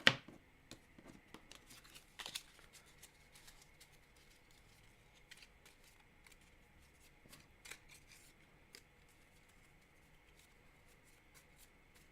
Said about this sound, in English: Oh, I got to shuffle.